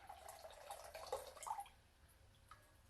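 Water poured out of a drinking cup during a daily toast, a faint trickle and splash for about two seconds that fades into near silence.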